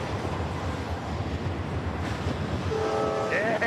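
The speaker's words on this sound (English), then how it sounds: "Here comes the train on my side." A train rolls past close by near Wheeler Lake with a constant clattering rumble, then blasts its horn in a loud, sustained chord near the end.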